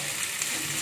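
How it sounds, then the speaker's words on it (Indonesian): Ground spice paste for soto betawi stir-fried in a pan, giving a steady, close sizzle with hiss and no pauses, heard alone over a brief moment. "Bumbu halusnya kita oseng"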